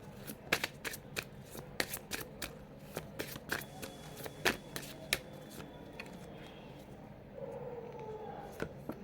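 A tarot card deck being shuffled at close range, giving a rapid run of crisp riffling clicks and flutters that settle into a softer rustle near the end, with no talking.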